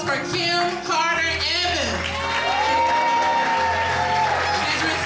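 A graduation audience gives a round of applause as a doctoral graduate is called, clapping mixed with cheers, whoops and shouts, while music and a voice carry over the crowd noise.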